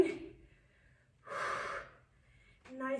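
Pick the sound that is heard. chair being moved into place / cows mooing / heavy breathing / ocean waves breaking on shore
heavy breathing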